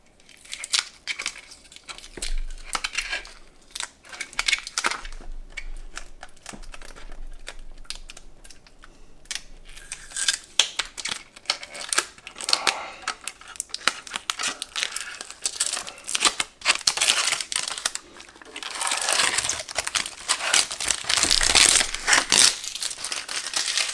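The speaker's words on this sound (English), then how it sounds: "I'm gonna peel the top." Packaging film and tape being peeled off the box of an MSI 5070 Ti Vanguard graphics card, a long run of close crinkling, tearing and crackling that grows louder and denser toward the end.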